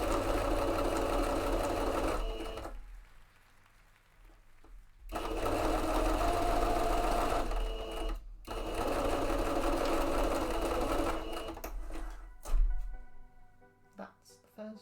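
A sewing machine stitches fabric for mock-up shorts at a longer stitch length, running in close, steady bursts separated by short pauses, with soft handling noise and a bump near the end.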